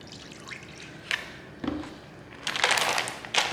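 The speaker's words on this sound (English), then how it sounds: "you pour just enough teriyaki sauce in the bag so that you can coat the thighs" Teriyaki sauce poured from a large bottle into a bag for coating chicken thighs, soft gurgling trickles and drips building into a fuller pour near the end, close and quiet.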